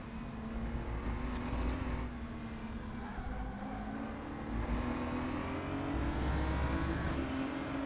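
Race car engines in a racing video game, with cars sliding around the track, a steady loud drone running throughout, rising and falling slightly, with no talk.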